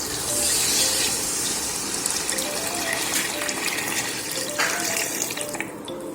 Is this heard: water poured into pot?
yes